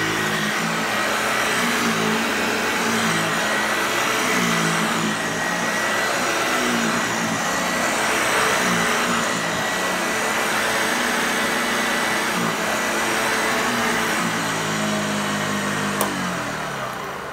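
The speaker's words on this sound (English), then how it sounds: "Alright, so that was the Hoover Jr." A Hoover Jr. lightweight vacuum cleaner, model 1340, runs steadily and loudly throughout with a constant motor whine and airflow roar, close by with no talk.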